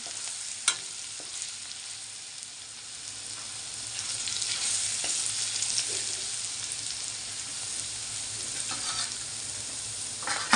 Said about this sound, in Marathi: तेल गरम झालं आहे मिरची लसूण आणि जिरेचे पेस्ट केलेली टाकते छान भाजून घ्यायचं